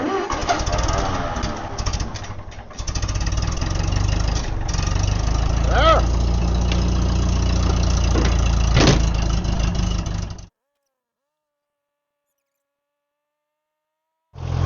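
Trencher engine running after a choked start in a wet corn field during field tile installation: a loud, steady mid-pitched engine drone close by for about ten seconds, then abrupt silence before it briefly resumes.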